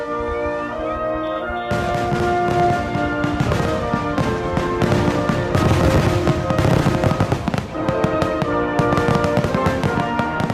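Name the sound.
fireworks exploding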